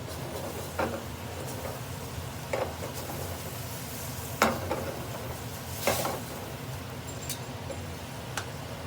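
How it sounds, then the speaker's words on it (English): Mushrooms sautéing in a pan for chicken Marsala, a steady close sizzle with a few light stirring clicks spaced every second or two. "Mushrooms just sauté."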